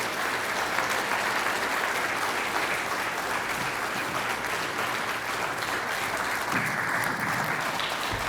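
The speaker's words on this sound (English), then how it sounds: "Let's give them a big round of applause" Sustained, steady applause fills an audience hall at the 54th NIA National Show award presentations in Logan, Utah, dense clapping holding at an even level throughout with a faint low hum underneath.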